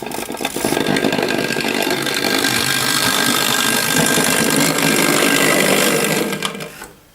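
A noisy Hornby Dublo N2 LNER model tank engine runs on a toy railway layout, a loud steady whirring mechanical buzz with rattling gears that holds for several seconds, then fades as it stops.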